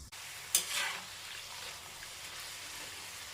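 Diamond cuts, small fried dough snacks, frying in hot oil until golden, giving a steady soft sizzle with a brief louder burst of bubbling early on, close and alone.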